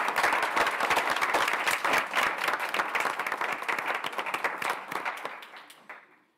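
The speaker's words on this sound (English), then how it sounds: "let's give him a round of applause anyway" A round of audience applause at a school district budget meeting, steady crowded clapping that holds for several seconds and then tapers off to silence.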